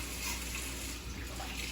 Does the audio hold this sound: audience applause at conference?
no